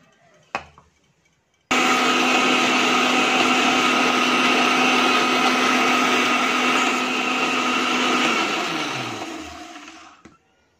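Mixer grinder blending soaked almonds and cashews into a fine paste, a loud steady whir that starts abruptly after a brief clack, runs continuously for about eight seconds, then winds down and stops.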